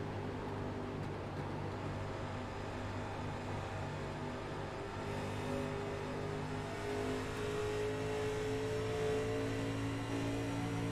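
Vintage 1987-era classic race cars lapping Atlanta Motor Speedway, a steady distant engine roar and drone sustained throughout without distinct pass-bys.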